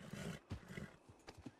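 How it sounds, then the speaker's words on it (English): A horse in the video game Red Dead Redemption 2 (WildRP) gives a short, close whinny mixed with a few hoof clops. The sound is faint and lasts under two seconds. "You are the best looking horse out here"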